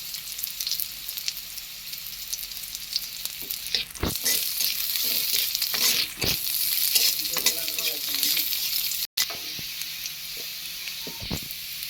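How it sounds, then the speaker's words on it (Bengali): Onion sizzling and frying in hot oil in a pan, a steady loud crackling hiss that runs throughout with occasional stirring scrapes, no talking. "মশলাটা তেলে দিব ওই জন্য এই পেঁয়াজটা গরম করতেছি"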